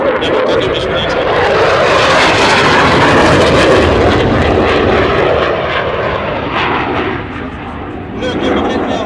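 An Extra 330 SC aerobatic plane rolls at an airshow, its loud engine roaring steadily and close overhead, shifting in pitch as it swings around, with an announcer talking underneath.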